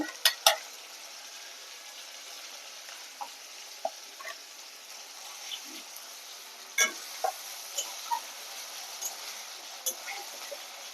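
Spices are dropped one by one into a hot pan and fry with a soft, steady sizzle, punctuated by sharp clinks and scrapes of a utensil against the pan, with a voice speaking over it.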